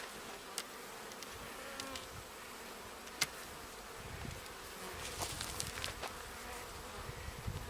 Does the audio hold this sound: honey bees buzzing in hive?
yes